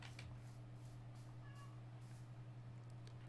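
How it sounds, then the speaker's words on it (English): A cat meows faintly in the background, one short distant call, over a steady low electrical hum indoors. "Cats, I got all the noises in the background today."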